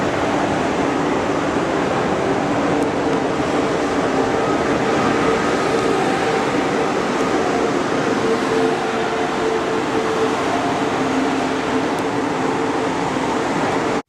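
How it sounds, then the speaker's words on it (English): A train departs Berlin Hauptbahnhof station, a steady, dense rumble of rolling wagons and station hum that holds at an even, fairly loud level for the whole stretch with no talk. "there's a train leaving just here"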